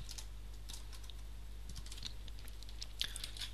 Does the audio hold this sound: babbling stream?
no